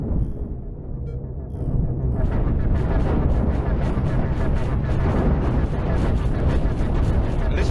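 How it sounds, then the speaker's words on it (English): Heavy cannon fire and explosions from ship combat in the space game Cosmoteer, a dense, continuous barrage of booms and bursts that builds after a quieter opening and stays loud throughout. "Ooh, lots of big cannons,"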